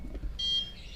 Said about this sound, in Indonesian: Bisa kita dengarkan buzzer sudah berbunyinya sudah berbeda, tidak seperti sebelumnya.